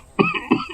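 Two quick, close coughs in a row from a sick person in a Hindi cartoon, each a short harsh burst with a slight voiced edge, in a quiet setting.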